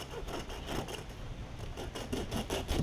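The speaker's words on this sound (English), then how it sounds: "You take a hacksaw. You get started through the armor." A hacksaw rasps through the tough armored scales of a gar fish in rhythmic back-and-forth strokes, a dry scraping rasp repeating about twice a second at close range.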